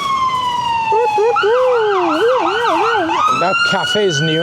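An ambulance siren wails loud and close on a snowy spring street in Toronto, sweeping up and down in rapid yelping cycles while a person talks briefly over it.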